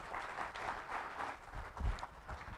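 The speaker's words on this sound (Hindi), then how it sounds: "एक बार जोरदार तालियां" A seminar audience claps, a soft, uneven patter of many hands with a few louder thumps, heard at moderate distance.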